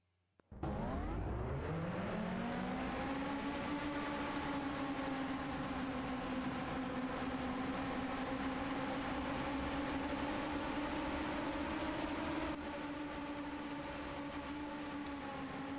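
Race car engines fire up at Richmond Raceway before the DirecTV 225, a sudden ignition swelling into a loud, sustained multi-engine drone that rises in pitch and holds steady, with no voices over it.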